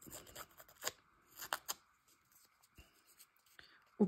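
Scissors cutting paper for a collage, a series of quiet, crisp close snips and rustles in uneven bursts with brief pauses between cuts.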